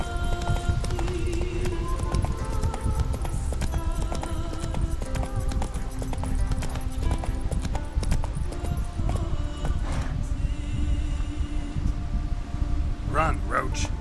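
Roach, the horse in The Witcher video game, gallops with a steady, close, rhythmic clatter of hooves that runs throughout over sustained background tones.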